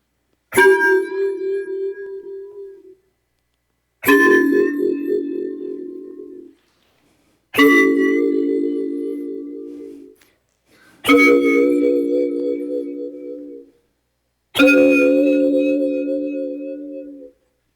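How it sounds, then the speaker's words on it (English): Five separate bell-like tones, each with a sharp strike and ringing decay, spaced a few seconds apart, growing richer and more voice-like in timbre. "we go from a voice to a bell simply by stretching the spectrum"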